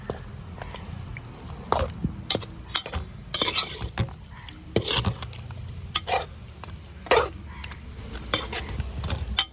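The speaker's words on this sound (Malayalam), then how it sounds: "നമുക്ക് ഇളക്കി കൊടുക്കാം സൂപ്പർ മീൻ കറിയായിരിക്കും" A village-style wedding fish curry is stirred in a pot, with irregular scraping and clanking strokes close by over a low simmering background.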